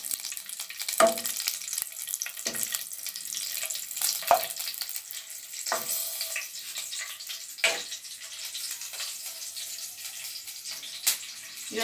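Long-sliced green chillies fry in a pan, producing a moderate hissing sizzle with intermittent sharper spits and clinks of stirring at irregular intervals.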